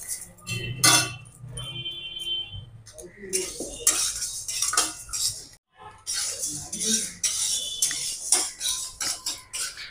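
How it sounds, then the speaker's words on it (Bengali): Mung and masoor lentils dry-frying in a pan, stirred with a metal utensil that scrapes and clinks steadily against the pan throughout, close and fairly loud, with a short pause midway. "আমি প্রথমে ডালগুলো ভেজে নেব"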